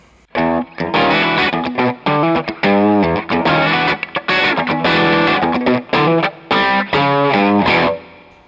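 Electric guitar played through a REVV D20 amp in triode mode, gritty overdriven chords and riffs in quick bursts with short pauses, loud and close, no voices.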